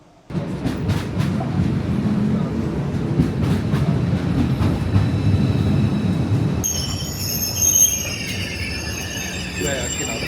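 Inside a moving train, a steady loud rumble of wheels and carriage noise with faint rhythmic clicks, later joined by high squealing of wheels on the rails.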